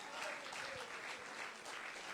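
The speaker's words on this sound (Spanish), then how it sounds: "¿Cuántos pueden darle un aplauso a ese Dios poderoso?" A church congregation claps for God during a Spanish-language service, a steady wash of hand claps from a crowd, moderately distant and sustained throughout.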